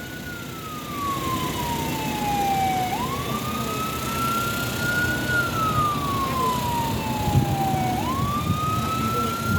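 A wailing ambulance siren sweeps slowly up and down twice at a Boston accident scene, loud and steady over a constant rumble of traffic.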